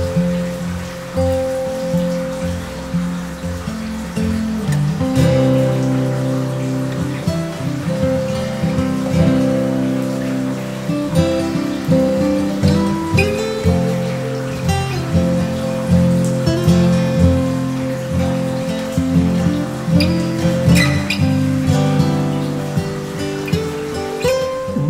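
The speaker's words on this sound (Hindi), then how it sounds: "अभी सोलन पहुंचे भी नहीं थे कि बारिश ने हमारा स्वागत किया।" Rain on the way to Solan in the Himachal Pradesh hills, pattering steadily on a surface for the whole stretch, mixed with loud continuous low rumbling and tonal background sound.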